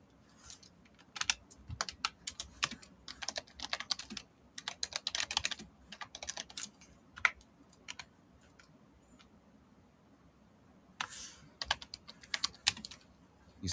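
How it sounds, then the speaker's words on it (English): Typing on a computer keyboard in a morning-show studio, bursts of quick close key clicks separated by short pauses, fairly quiet with no talk over it. "I'm typing."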